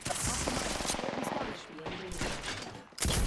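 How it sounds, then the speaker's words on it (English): Enemy gunfire in Apex Legends crackles in rapid automatic bursts, dense at first and then thinning, with a loud burst returning at the end. "They spotted me. I'm taking shots"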